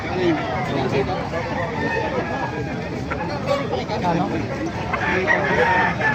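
A pumpkin sweater gamefowl rooster clucking and calling among other chickens nearby, with someone talking steadily over the birds.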